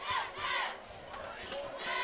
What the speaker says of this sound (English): Cheerleaders making some noise, keeping this crowd entertained.